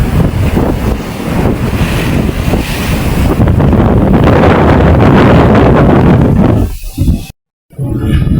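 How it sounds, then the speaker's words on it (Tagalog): Loud, roaring wind at sea buffets the microphone with heavy gusts during the northeast monsoon, mixed with rushing water and whitecapped wave noise, before a brief abrupt cut. "Pag nabugso ay malakas talaga yung hangin."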